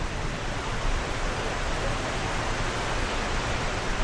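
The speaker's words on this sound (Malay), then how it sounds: "tepi sungai guys. Bunyi air kau-kau." A river rushes loudly beside a riverside eatery in an eco-park near Jertih, Terengganu, a broad, continuous roar of flowing water close by and with no voices over it.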